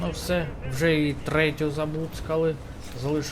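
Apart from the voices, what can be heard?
No distinct noise like a dog, phone or traffic.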